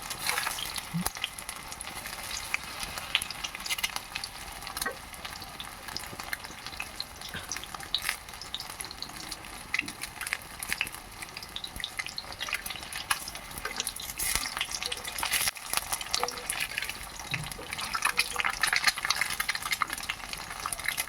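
Eggs fry in oil in a kadai, giving a steady, fairly quiet hiss and crackle with scattered small pops and light stirring scrapes, continuous from start to finish.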